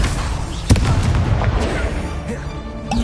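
Casting of the Incendio fire spell in Hogwarts Legacy gives a sharp burst followed by a crackling, whooshing rush of flame, with a couple of fainter pops trailing off.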